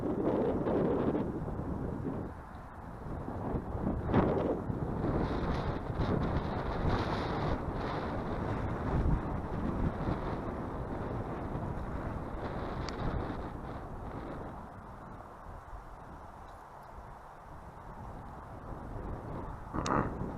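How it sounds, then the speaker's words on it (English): Wind blowing outdoors beside water at a bass fishing spot, a steady rumbling buffet across the microphone with gusts swelling and easing throughout, loud and continuous. "So the wind is blowing to me."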